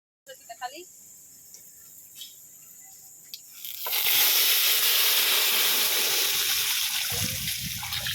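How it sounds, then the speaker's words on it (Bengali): Hot oil tempering dal with five-spice and dried red chillies, a loud steady sizzle bursting in midway after quieter kitchen clatter and talk, continuing to the end. "ডালগুলো সাদলে নেব।"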